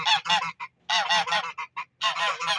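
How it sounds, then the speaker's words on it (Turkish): Several geese honk repeatedly in loud, nasal bursts, close by, with calls overlapping in quick irregular runs and brief pauses between. "Kazlar da yan tarafta komşunun kazları."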